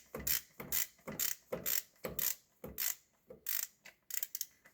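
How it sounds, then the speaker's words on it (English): A flex ratchet tightens the alternator on an LBZ Duramax engine, with about ten rhythmic, close ratcheting strokes, each a buzzing pawl click followed by a brief pause. "We're gonna go ahead and tighten down this alternator."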